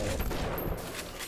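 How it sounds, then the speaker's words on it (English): Anti-personnel rounds fire in the video game BioShock, a dense, loud burst of overlapping gunshots lasting about a second, with no talk over it. "I tried the anti-person rounds."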